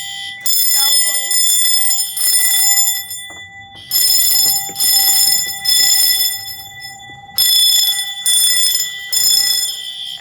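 A fire alarm horn sounds during a system test, blaring in loud repeated bursts with brief gaps between them, close and piercing throughout.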